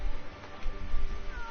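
A cat meows amid the busy, dense ambience of a fantasy canteen hub in Monster Hunter World, the short cries sitting inside steady game background noise.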